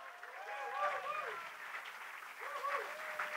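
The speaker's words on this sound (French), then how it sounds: "Oui, quand même, on peut l'applaudir." An audience applauds at the closing ceremony of a charity event, with steady clapping running throughout as voices speak over it.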